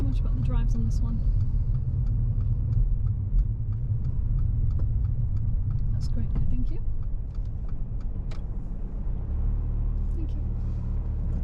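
A car's engine rumbles steadily up close as it pulls in to park behind a red car, a low continuous drone with a few small clicks and ticks, while a person speaks briefly over it.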